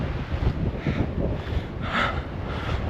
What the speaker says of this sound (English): It's so windy up here that my